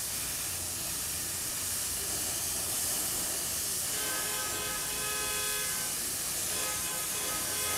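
Paint sprayed onto a worn part to give it a red finish, a steady close hiss of spraying that runs continuously and fairly loud, with a faint tonal whine joining partway through.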